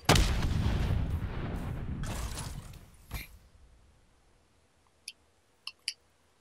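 Gunfire in an Xbox video game, with a dense burst of loud booming shots through the first three seconds, one sharp crack near three seconds, then quieter space broken by three short clicks near the end.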